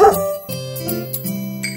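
A farmer's little dog barks in a Polish children's song. A few short, distinct barks and yips are set against a sustained musical backing.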